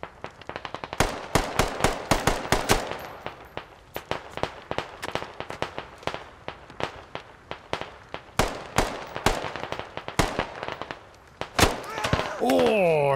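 Gunfire in the military shooter Squad, sharp rapid cracks in uneven bursts, some close and loud, others fainter, with voices speaking in between.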